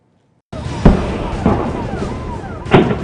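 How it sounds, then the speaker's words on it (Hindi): Three loud explosions boom out at intervals during a military operation at a building in Pampore, Jammu and Kashmir, each a sharp thump with rolling echoes, over a continuous rumbling background. "पहला धमाका"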